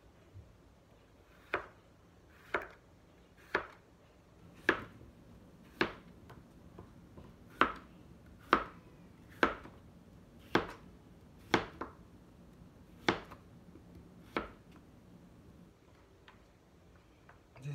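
Sayote (chayote) sliced with a knife on a board, about fourteen crisp separate chops at a slow, fairly even pace, close and clear over a quiet background.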